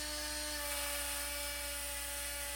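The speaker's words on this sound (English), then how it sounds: "Now we're going over to the buffing wheel" Axe head being polished with blue compound on a powered buffing wheel during a scout axe restoration, a steady motor whine with constant tonal hum, close and unbroken, with no talking.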